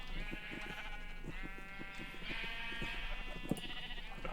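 Sheep in the Minecraft video game bleat repeatedly in a pen, several overlapping bleats at a moderate level with no talking.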